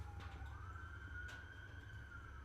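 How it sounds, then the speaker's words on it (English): Faint, distant emergency siren wails with a slowly rising and falling tone beneath a low background hum. "there's sirens going off"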